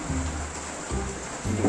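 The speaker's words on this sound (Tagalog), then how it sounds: "Umuulan eh." Steady rain falls over a house under construction, a soft, even hiss with low rumbling thuds underneath, all fairly quiet and with no voices.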